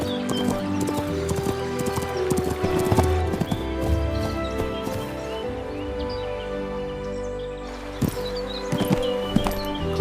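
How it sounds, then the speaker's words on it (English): A horse being ridden along a forest track, hooves clip-clopping in a steady rhythm close by, with a brief whinny, faint rustling and bird calls around it. "she mounted her horse and rode toward Verdel"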